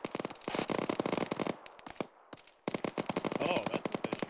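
Rapid machine-gun fire from a video game, sharp evenly spaced shots in dense bursts, broken by a short quiet gap before another long burst, with a voice speaking over it.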